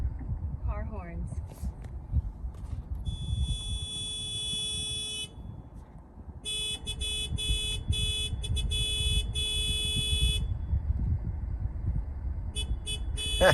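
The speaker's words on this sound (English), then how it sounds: "play car horns." Car horns honk through a small smart speaker device, bursts of beeping and tooting with pauses between them, loud and close, starting right after a brief spoken command.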